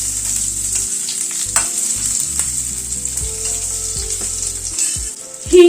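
Boiled potatoes fry in hot oil seasoned with asafoetida, cumin and bay leaf, giving a loud, continuous sizzle. Scattered scraping and stirring knocks sound against the pan, with no voices.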